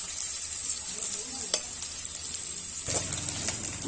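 Finely chopped potato fries in a pan for a banana greens dish from Chhattisgarh, giving a steady soft sizzle with a few scrapes of stirring that grow a little busier toward the end.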